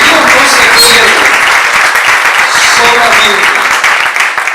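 Congregation in a church breaks into sustained, dense applause for several seconds, loud and close, with a few cheering voices mixed in before it thins toward the end.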